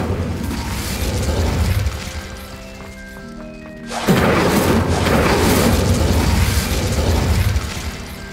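A fire spell cast in the video game Hogwarts Legacy, with a sudden loud whooshing, roaring burst midway over a dense background of game effects and music.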